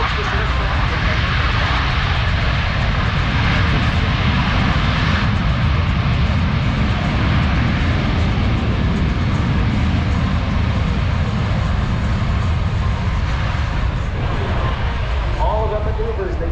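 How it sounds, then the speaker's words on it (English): KC-135 and C-17 military jet aircraft at the Stuart Air Show produce a loud, steady engine roar that fills the whole stretch without a break. "here's about as much noise as aircraft can make"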